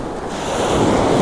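Ocean waves break onto a beach near big rocks, a steady loud wash of surf that swells and grows stronger, with wind buffeting the microphone.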